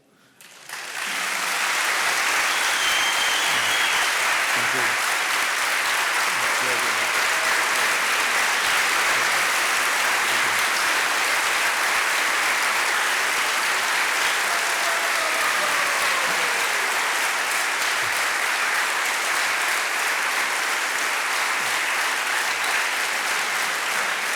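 Sustained audience applause fills a college chapel after a talk, a dense, loud roar of many hands starting abruptly and holding steady for over twenty seconds.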